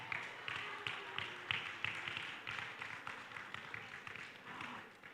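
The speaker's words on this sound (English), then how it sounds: "so give yourselves a round of applause" Scattered, fairly faint applause from a small audience at a primary school graduation ceremony, irregular claps tapping along for several seconds, with a murmur of voices underneath.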